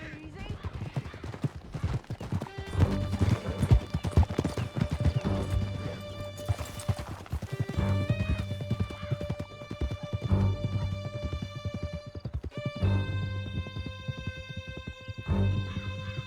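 A horse gallops hard in Red Dead Redemption 2, its rapid clip-clop hooves close and steady throughout, with a whinny, tonal game music and voices speaking over it.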